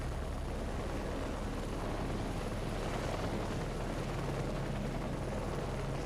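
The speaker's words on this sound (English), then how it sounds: "We got an attack helicopter going in there." An attack helicopter in the Heliborne video game drones with a steady, continuous rotor roar, loud and unbroken throughout.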